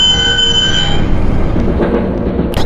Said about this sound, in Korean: 그 사이 문이 닫히며 지하철이 출발해버리는데